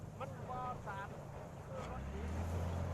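An old-style rural rice milling machine in an Isan village starts up, its low engine rumble building steadily and growing louder, with people talking over it.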